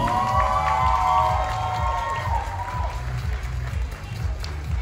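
An audience cheers and applauds award winners at a Hong Kong company's 12th-anniversary annual gala, the clapping and shouts blending with loud music that carries a steady, thumping beat throughout.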